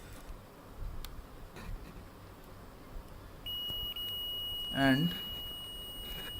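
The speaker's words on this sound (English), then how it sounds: "here the beeping sound is again formed, so we can say that these 2 points are continue." A continuity tester checks two points on a circuit board and gives a steady high electronic beep that starts partway through and holds, faint against room noise, with a brief voice over it.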